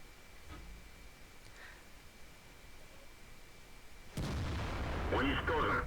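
Tank cannon fire in the World of Tanks video game, a sudden loud blast near the end followed by rumbling and clattering after several seconds of quiet ambient noise.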